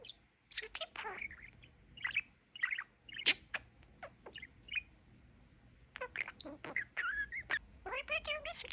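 A pet budgie parakeet chirps and tweets in quick, bright bursts close by, the sharp calls coming in clusters with brief pauses between them, while a person speaks softly in between.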